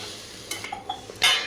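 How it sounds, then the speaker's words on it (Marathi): Soaked poha flakes being mixed into a hot onion tempering in a pan, a few light scrapes and taps of a spoon against the metal, with a brief louder sizzle-like rush near the end, close and with no talk. "मिक्स करून घ्यायचं व्यवस्थित हे"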